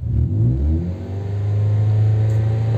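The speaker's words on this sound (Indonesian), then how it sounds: "Sambil saya gas-gas seperti ini." A Toyota Vios/Yaris third-generation engine is revved up from idle and held at a raised, steady hum, a close, loud rising drone with a brief dip before climbing and settling.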